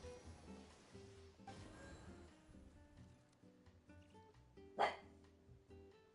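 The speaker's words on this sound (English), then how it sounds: "my dog is joining the conversation, apparently" A single short, sharp bark from a dog cuts in briefly and fairly loudly over quiet background music during a gaming chat.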